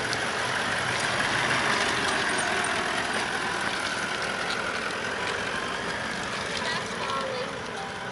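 Several 4WD vehicles grind up a rocky bush track at Barrington Tops, engines idling and labouring in a continuous mid-distance drone, with people talking over the noise.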